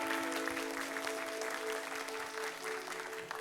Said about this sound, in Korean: 함께 나오실 때 사랑과 축복의 박수 모시도록 하겠습니다.